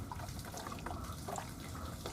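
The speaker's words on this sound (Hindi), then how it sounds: "और पानी डाल" Water pours into a large tray of fake milk mixture with a continuous splashing, trickling flow at close range and no talk.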